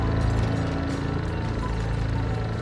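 A buzzing, lawnmower-like synthesizer drone in a song, a sustained pitched mechanical hum set in the track's mix, steady and prominent for the whole stretch.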